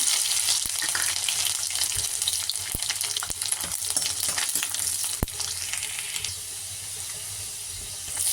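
Garlic fries in hot oil in a pan with fennel seeds already added, giving a constant close sizzle broken by sharp clicks and scrapes as it is stirred.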